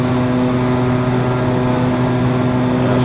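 An Evektor EV-55 twin propeller plane in X-Plane 11 drones loudly and steadily, with tonal engine hum and prop buzz, heard up close without a break.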